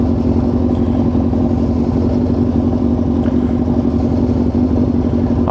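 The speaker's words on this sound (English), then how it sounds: "I like the sound of sport bikes." A Suzuki Gixxer 600 sport bike idles and revs nearby in traffic, a steady, loud engine drone that holds without a break.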